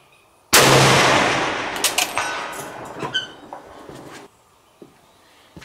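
A Swiss K31 rifle fires a single sharp, loud shot at a long-range shooting spot, followed by a rolling echo that decays over several seconds.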